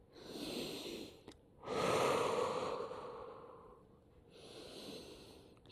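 Heavy breathing follows a yoga vinyasa forward fold: three quiet, separate breaths, with the longest and strongest exhale in the middle and a softer breath at the end.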